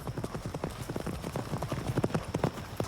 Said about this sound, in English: Their horses can't carry them fast enough.